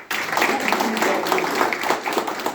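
A crowd at a large public meeting applauds after being asked to, and the dense clapping holds steady and fairly loud for a few seconds. There is faint voice activity underneath.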